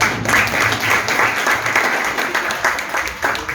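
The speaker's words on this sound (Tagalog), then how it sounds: "O palakpak naman yan." Congregation at a Sunday anniversary church service clapping together, a brief burst of crowd applause with uneven pulses over a few seconds.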